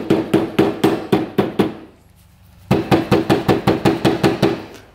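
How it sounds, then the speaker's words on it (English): A hammer taps the cylinder of a seized two-stroke trike engine that sat outside for years: two runs of sharp, evenly spaced metallic knocks, close and loud, split by a brief pause. "Lightly tap the cylinder with the hammer."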